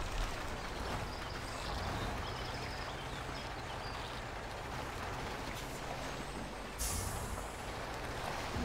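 A heavy truck engine in the Spintires Mudrunner off-road game drones and rumbles continuously at a steady loud level, with a brief hiss of air near the end.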